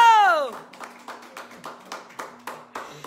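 At an auction, a brief voice gives way to steady rhythmic clapping, with evenly spaced claps about three per second continuing under a faint constant hum.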